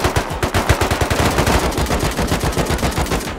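Rapid automatic AK rifle fire in the survival game Rust, a loud, sustained burst of evenly spaced shots rattling close by with no pause.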